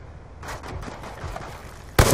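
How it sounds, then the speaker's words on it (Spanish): Gunfire in the video game Call of Duty Black Ops 2, a rapid burst of shots followed by a sharp, loud blast at the end, close and punchy with no talking. "Yo disparo por si acaso"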